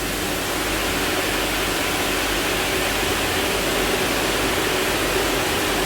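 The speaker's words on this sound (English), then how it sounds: "So there's even an indoor waterfall here and whirlpool." Steady, even rush of an indoor waterfall and whirlpool running in a luxury pool villa, a constant hiss of falling water with no talking.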